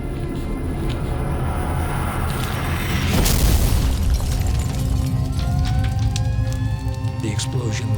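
A powerful mail-bomb explosion from a package bursts out with a sudden loud boom, followed by a sustained rumbling roar and debris-like noise that lingers for several seconds at high level, with low musical-like tones beneath.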